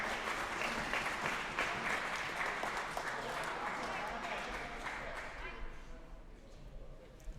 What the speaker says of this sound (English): Give these gentlemen a round of applause.